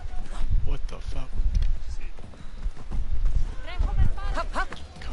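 Horse hooves pounding at a gallop in Assassin's Creed Odyssey, rhythmic clip-clop under a busy game mix, with voices and shouting scattered through.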